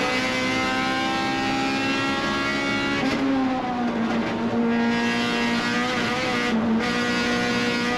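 Race cars on track at Lime Rock, a steady loud engine drone with harmonic whine, pitch sliding as cars shift and pass close, continuous for the whole stretch with no talk.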